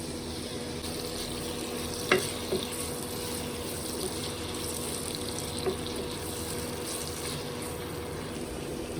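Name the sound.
onions frying in oil left from frying chicken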